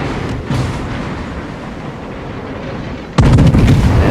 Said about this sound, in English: And there is another salvo for me